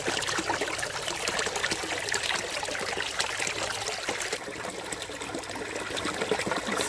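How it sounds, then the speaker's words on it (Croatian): Spring water trickles and splashes steadily at its source, a close, continuous burbling stream with no one talking. "Evo nas kraj izvora, izvorska voda."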